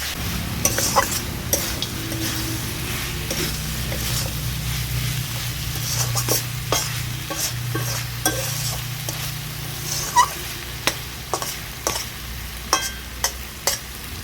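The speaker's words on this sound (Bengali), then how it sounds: "সব কিছু ভালো করে নেড়ে চেড়ে নিলাম।" Kalmi greens with cumin and coriander powder are stirred in a frying pan over a low, steady sizzle, while a spatula scrapes and taps the pan in sharp clicks that grow more frequent toward the end.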